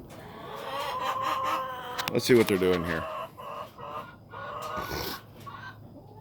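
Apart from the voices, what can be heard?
chickens clucking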